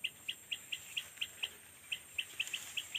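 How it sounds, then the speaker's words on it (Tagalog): An alimukon dove calls in mountain countryside, a run of about fourteen short, evenly spaced high chirps over three seconds, clear but moderately distant against a quiet background. "Natawag na alimukon guys."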